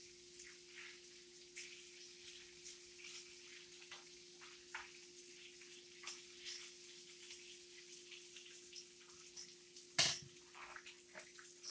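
Bacon and sausage fry together in a pan, giving a faint steady sizzle with scattered pops and one sharper crackle near the end, and no talk over it.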